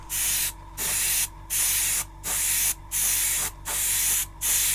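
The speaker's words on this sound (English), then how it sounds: "So I'm just going to put a nice healthy coat on here of this adhesive." Adhesive sprayed from an aerosol can in six steady bursts of about half a second each, broad loud hissing separated by short silences, close and alone.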